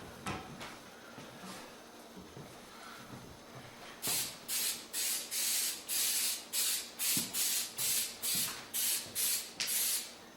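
Canola oil cooking spray hissing onto a seasoned turkey before smoking on a pellet grill, about ten short, even bursts in a steady rhythm, loud and close, after a few seconds of quiet handling noises.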